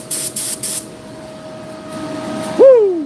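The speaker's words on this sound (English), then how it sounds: "Yeah, that's a pretty good spray right there." Aerosol spray can of metallic paint used while painting a BMW E36 M3 hardtop: three short hissing bursts close by, then quieter background and a rising tonal squeal near the end.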